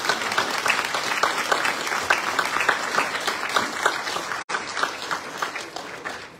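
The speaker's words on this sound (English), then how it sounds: "Can we give a big round of applause for all of our candidates?" An audience at a local council election candidates' meeting in Whyalla claps for the candidates: dense, steady applause throughout, with a brief break near the end before the clapping carries on.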